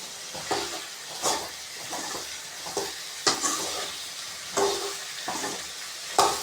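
Vegetables for green brinjal thokku sautéing in a pan, loud close sizzling that swells with each rhythmic stir and scrape, repeating every second or so with no voices.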